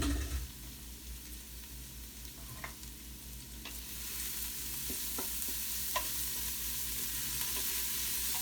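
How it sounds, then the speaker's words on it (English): Garlic sizzles in a pan with onions and peppers, a soft steady frying hiss punctuated by occasional scrapes and taps of stirring, close and quiet with no voices. "You want the garlic to cook for about a minute."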